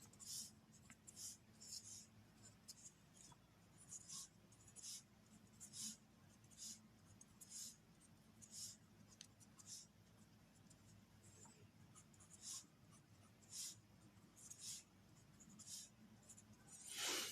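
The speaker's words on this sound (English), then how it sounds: "I'm just going to write down the numbers in sequence" Pen or pencil writing numbers in sequence by hand on paper, a steady run of faint scratchy strokes with short pauses between figures, close and quiet, with no voice over it.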